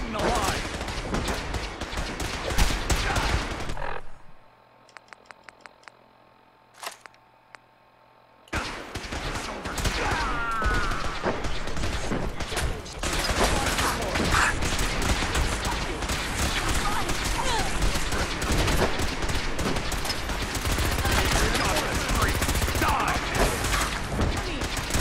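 Gunfire in Fallout 4 rings out in dense, continuous bursts, with a short near-quiet gap of scattered mechanical clicks in between, while someone talks over the action.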